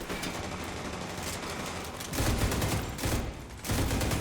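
Rapid automatic gunfire from The Division 2 video game, dense continuous bursts of shots with a couple of louder surges, close and loud with no talking over it.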